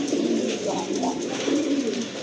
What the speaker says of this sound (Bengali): প্রথমে এক জোড়া গোল্লা কবুতর দেখতে পাচ্ছেন, রাজগোল্লা কবুতর